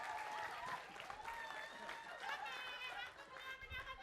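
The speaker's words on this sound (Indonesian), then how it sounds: "Oke, tepuk tangan." A crowd claps and cheers in a continuous burst of applause, somewhat distant, with excited voices mixed in.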